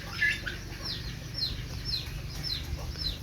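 Chickens clucking in a small coop or cage, several short chirpy calls repeating through the clip over a steady low hum of background noise.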